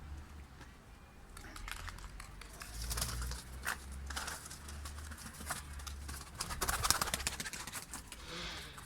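A tumbler pigeon's strong wings flap on and around a rooftop, giving bursts of clattering wingbeats over a low background hum. They come in uneven clusters and swell loudest near the end, with soft cooing and no talking.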